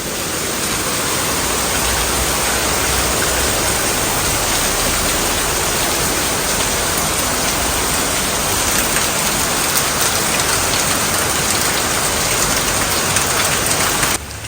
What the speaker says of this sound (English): The rain has not stopped yet. It's still raining.